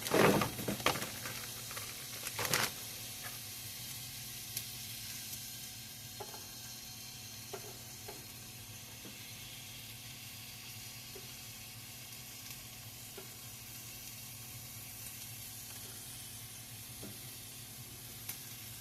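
Smokies sausages sizzle in a hot skillet, a steady close crackle with a few clattering knocks as they go in, then settling into an even hiss dotted with small pops.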